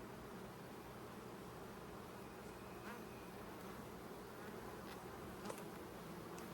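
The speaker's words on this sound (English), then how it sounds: "Full frame of brood here, got some emerging bees." Honey bees buzzing steadily during a hive inspection of brood frames with emerging bees, a dense continuous hum close by, fairly faint, with a few light clicks and rustles and no talking.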